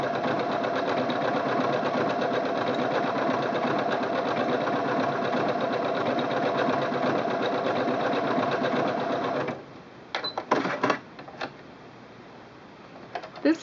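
A Singer Quantum Stylist 9960 sewing machine runs steadily while stitching fabric, a loud continuous mechanical whir for about nine seconds, then stopping, followed by a few brief clicks and short bursts of handling.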